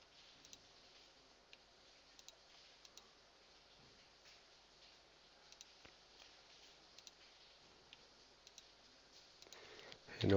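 A computer mouse clicks now and then, soft and close, scattered sharp ticks over a quiet room hum, with a louder noise rising at the very end.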